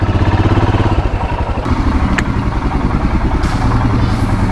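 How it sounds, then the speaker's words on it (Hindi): A motorcycle engine idles and pulls away for a short ride home in the evening, a loud, close, rhythmic chugging that continues throughout with some clatter and no voices. "तो चलिए अब सीधा चलते हैं बाइक पे।"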